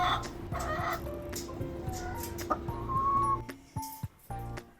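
Several hens cluck and murmur close by in a busy, overlapping stream inside a backyard coop in a city, with occasional sharper calls toward the end.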